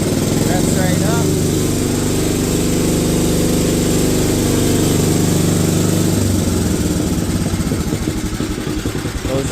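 An International Cub Cadet garden tractor engine, freshly restored, runs loud and steady, then drops back down to a lower idle partway through. Speech is heard over the engine.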